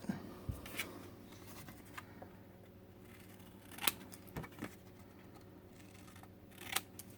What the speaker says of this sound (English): I'm just going to take my scissors and right on that score line, right up to the corner, I'm just going to snip off the corners